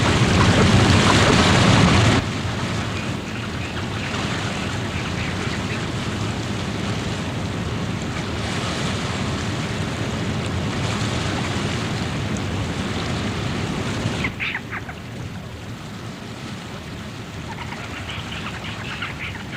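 Whitewater rapids of the Dudh Kosi river in a Himalayan gorge roar as a dense, continuous broadband rush, loud and close at first, then steady and slightly softer, with no voices.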